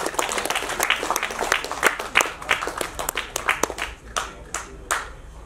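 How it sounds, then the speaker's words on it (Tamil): Audience applause at an award event honouring social welfare workers, a dense burst of many hands clapping with sharp individual claps standing out, fairly close and steady before thinning toward the end. "அவர்களுக்கு கரகோஷத்துடன் நம்முடைய நன்றியையும் பாராட்டையும் தெரிவித்துக் கொள்வோம்"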